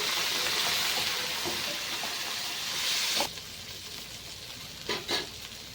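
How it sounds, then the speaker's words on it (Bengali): Beans, carrots and capsicum frying for fried rice make a loud, dense sizzle that suddenly drops to a quieter hiss, followed by a couple of brief stirring scrapes. "বিন আর গাজর ভাজা হয়ে গেছে এর মধ্যে আমি দিয়ে দেবো ক্যাপসিকাম"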